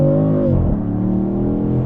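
A 2026 Dodge Charger Sixpack Scat Pack accelerates hard from about 40 mph at night, its engine note rising through a dense, loud harmonic drone heard from inside the cabin.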